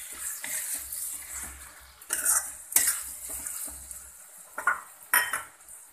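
Mango chutney with jaggery and sugar being stirred in a pan, with a spoon scraping and clinking against the metal in irregular bursts over a soft sizzle, no talking.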